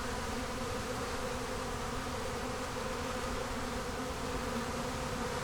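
Honeybees buzzing at an open hive, a dense continuous drone of many wings, steady and close with no pauses.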